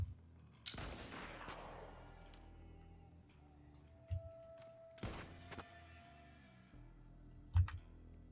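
Gunfire in the video game Borderlands hits a box of Splodios cereal, giving a sharp loud crack followed by a few fainter clicks and thunks in a quiet background.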